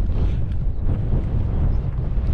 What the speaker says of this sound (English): It's difficult to do any bits to camera because it's so windy.